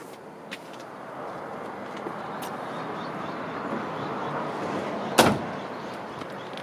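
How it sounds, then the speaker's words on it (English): A single solid thump of a 1966 Ford Mustang Coupe door shutting, over steady low background rumble and hiss. "Door closed nice."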